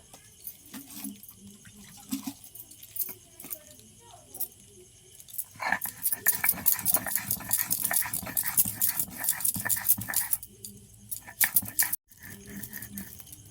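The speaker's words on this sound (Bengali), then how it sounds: "পোস্ত আর কয়েক কুচি টমেটো আমি দিয়ে একসাথে বেটে নেব।" Poppy seeds and chopped tomato are ground on a stone slab with a stone pestle, making close, rhythmic scraping and rubbing strokes that grow louder and busier partway through, with a few quiet knocks at the start.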